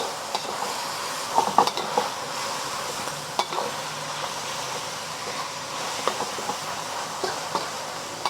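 Ground meat, 1.5 pounds, sizzling steadily in a hot pan as it is broken up with a utensil, with irregular scraping knocks over a constant frying hiss and no talking.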